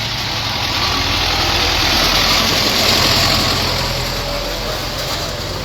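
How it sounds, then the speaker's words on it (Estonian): A tractor engine running at a farm during a protest gathering, a loud continuous idling rumble close by, steady throughout with faint voices underneath. "Meile tuli traktor kohale."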